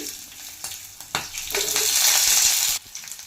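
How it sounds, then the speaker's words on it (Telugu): Cloves, cardamom, garlic and green chillies fry in oil for a green chilli chicken pulao: a few stirring scrapes, then a loud bubbling sizzle swells up close before cutting off abruptly. "ఇది కాసేపు వేపాలండి."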